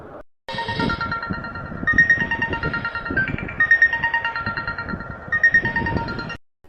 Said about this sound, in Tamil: யார் எது ஃபோன் அடிக்கிறது